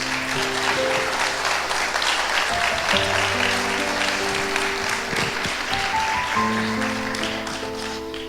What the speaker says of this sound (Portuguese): Pode se assentar aplaudindo a Jesus bem forte.